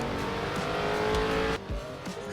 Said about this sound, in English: let's give this 0 to 60 and see what this Camaro is like.